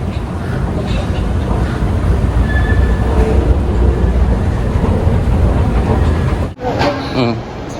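LRT 1 light rail train rumbles steadily at close range, a continuous heavy roar of wheels and carriage noise with a brief dip near the end, faint voices underneath.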